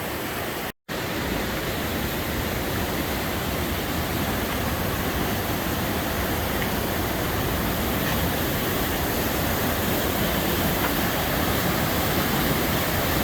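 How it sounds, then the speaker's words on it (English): Mountain river cascades in Rocky Mountain National Park roar as a dense, steady rush of white water, loud and unbroken throughout apart from one momentary dropout near the start. "Lots of cascades."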